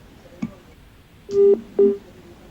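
Telephone line tones while a caller is connected on a live call-in broadcast: a faint tick, then two loud, steady dialing beeps in quick succession over low background hiss.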